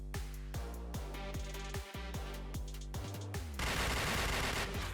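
Rapid bursts of video-game gunfire from a Point Blank esports match, repeated shots in quick succession over a busy, tonal game soundtrack.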